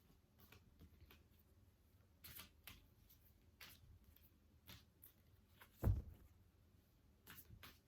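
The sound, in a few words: shuffling tarot cards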